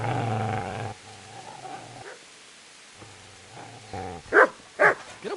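A dog growls and barks in the video game Kingdom Come Deliverance, a low sustained snarl followed by a few sharp barks near the end, heard close with quiet gaps between.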